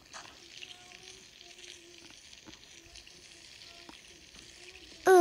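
Steady sizzling of fish frying in a pan in the Toca Kitchen 2 cooking game, a continuous hiss with small game chimes, ending in a sudden loud burst.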